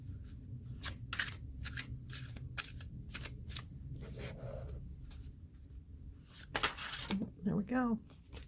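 Tarot cards shuffled by hand in a series of soft rapid riffles and flicks, under a voice talking nearby.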